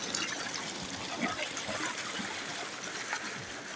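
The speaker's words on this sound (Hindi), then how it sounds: "ये देखिए पानी का फ़्लो, बहुत ही ठंडा पानी है" Cold water flowing from a tube well pours and splashes continuously in a steady, moderately loud trickling rush, with faint voices in the background.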